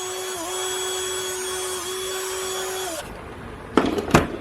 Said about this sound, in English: I'll polish it up a bit.